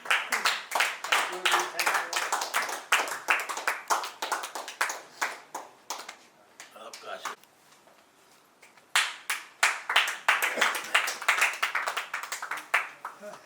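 Rhythmic hand clapping from a crowd at a school batch reunion, steady and fairly loud, briefly thinning to near quiet midway before resuming strongly.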